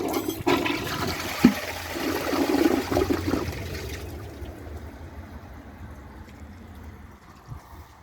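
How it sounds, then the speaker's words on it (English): An AquaSource Henshaw toilet, whose tank does not fill to the correct height, flushes with a loud rushing gush of water for about four seconds before it fades into a quieter trickle. "let's give the Henshaw a flush"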